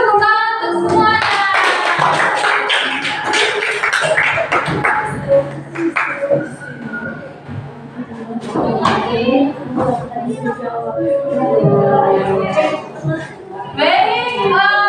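A classroom of students claps for their classmates during a lesson, the scattered applause mixing with voices and chatter that run through most of the stretch.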